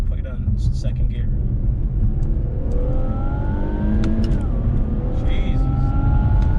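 A tuned Infiniti Q60 makes a second-gear launch-control pull, its engine rumbling low and then climbing steadily in pitch as it accelerates, loud and close, under someone talking.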